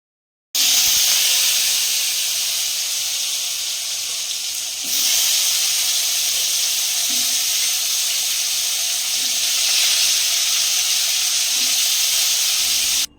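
Potato pieces sizzling in hot oil in a kadai for aloo dum, a steady, loud frying hiss that runs close and continuous without talk, with a brief dip partway through.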